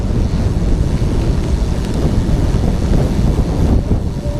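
Strong wind buffets the microphone of a cyclist riding a city street past car dealerships, a loud, constant low rumble that fills the clip without pause.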